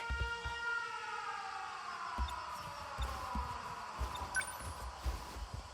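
A wailing air raid siren in the video game 13 Sentinels: Aegis Rim rises and falls in the distance, accompanied by low rhythmic thuds like a heartbeat; no one speaks.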